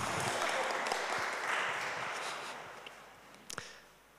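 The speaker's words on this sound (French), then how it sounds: "Honnêtement, ça mérite un applaudissement." A church congregation gives a brief, faint round of applause, soft and somewhat distant, tapering away over a few seconds with a couple of louder isolated claps near the end.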